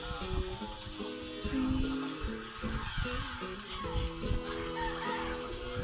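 Chickens and ducks cluck continuously nearby in a yard, a busy overlapping chorus of short calls with steady background noise and no talking.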